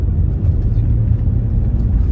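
A 2009 Land Rover Freelander 2.2L TD4 HSE diesel rounds a bend, heard from inside the cabin as a steady, deep engine and road rumble with no pauses.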